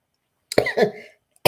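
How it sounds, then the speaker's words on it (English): A single harsh cough, close and loud, followed by a short silence and the start of another burst. "I think I waited to get home to cough"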